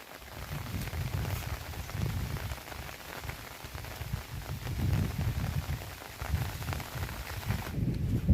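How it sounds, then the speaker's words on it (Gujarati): Heavy rain drumming on a surface, a dense wash of noise that swells and eases in waves, with deep pattering thuds and no talking. "વરસાદ તો ચાલુ જ છે અમારે ઓલો વરસાદ હવે વધી ગયો છે"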